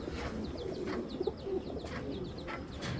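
Pigeons coo in low, rolling notes among other birds, with high chirps repeating throughout and a brief flutter of wings.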